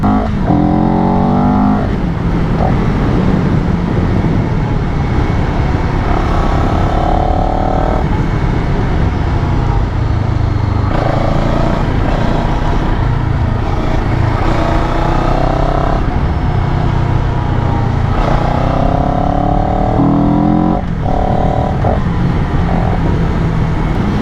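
A CFMOTO 700 CL-X motorcycle's engine and exhaust drone steadily and loud while riding on a twisty road, with repeated rising and falling throttle sweeps as the rider accelerates and shifts.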